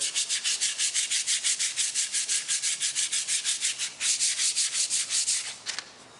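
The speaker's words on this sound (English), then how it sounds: "I like to hand sand it." Hand sanding varnish off a wooden gun stock: a close, steady rasp of sandpaper in quick, even back-and-forth strokes, repeated many times with a brief pause, then a few more strokes before it stops.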